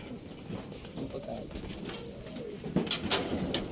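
A racing pigeon coos softly and close by in a few low, throaty rolls, with a couple of sharp chirps near the end and no talking.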